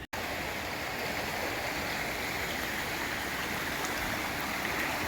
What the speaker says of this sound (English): I'm literally parked right by this river.